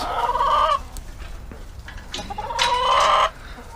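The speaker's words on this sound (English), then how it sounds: "So let's go say hey to the chickens real quick." Two loud, close chicken calls, drawn-out squawking clucks, separated by a quieter pause with faint rustling.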